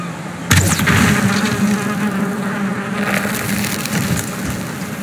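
Bees swarm around a queen bee hive in the video game Valheim, a loud, dense buzzing drone that starts abruptly and stays close and continuous, with rustling and scattered knocks layered over it.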